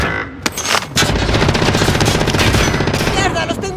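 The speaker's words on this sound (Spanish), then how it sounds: "¡Los tengo encima! ¡Me disparan!" Sustained automatic gunfire in the video game Call of Duty Warzone, loud and dense bursts rattling almost continuously with a few sharper isolated shots near the start.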